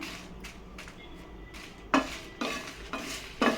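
Dried red chillies, about fifteen, dry-roasting on a low flame in a pan for idli podi, with a spatula scraping and stirring in repeated close strokes, no voices.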